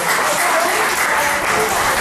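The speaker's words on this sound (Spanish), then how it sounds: "¿Cuánto damos aplausos fuertes a eso?" Loud, dense applause from a church congregation, a steady wash of many hands clapping that fills the whole moment without a break.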